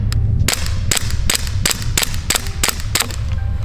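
Repeated CO2 pistol shots fired at a paper target, about nine sharp cracks spaced roughly every half second, loud and close, with no talking.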